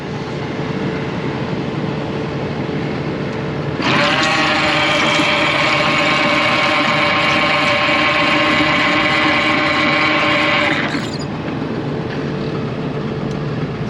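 A farm tractor idles while driving a cornhead during barn cleaning, a loud steady engine drone that swells into a brighter whirring, grinding run of the machinery for several seconds before settling back to the idle.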